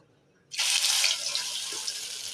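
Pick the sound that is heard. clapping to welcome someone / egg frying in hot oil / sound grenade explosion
egg frying in hot oil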